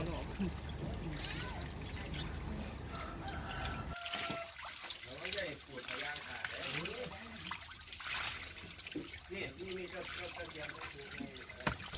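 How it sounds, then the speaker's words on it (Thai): Water drains steadily out of a catfish pond in a continuous trickling, gushing wash, with an abrupt change partway through, faint voices and distant fowl sounds mixed in. "ตอนนี้เรากำลังปล่อยน้ำออกครับนี่ ปล่อยน้ำกำลังปล่อยน้ำไหลออกเลย"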